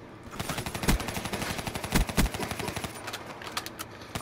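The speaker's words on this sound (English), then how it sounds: "I shoot the wall, son." Rapid automatic gunfire hitting a wall in Call of Duty Black Ops III, a dense, steady stream of loud shots with a few heavier impacts, lasting several seconds without pause.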